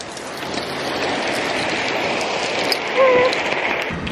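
Hail storm pounding hard on car windows, a dense, loud, continuous hiss and clatter of stones striking glass and metal, steady throughout with no talking.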